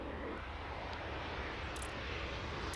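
Airliner taking off in the airport-management game Airport Madness World Edition, a steady, faint, broadband engine roar and rush of air held throughout the short stretch, with no talking.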